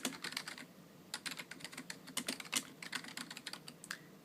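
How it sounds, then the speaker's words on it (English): Close, soft typing on a computer keyboard in a quiet room, with irregular bursts of quick key clicks and brief pauses, and no talking. "So I'm going to type that one."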